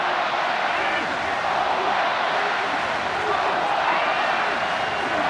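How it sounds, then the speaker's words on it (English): A large stadium crowd murmurs and roars steadily at an All Blacks versus Wales rugby test in Wellington, a constant broad wash of massed voices with commentary talking over it. "Crowd warming to the task"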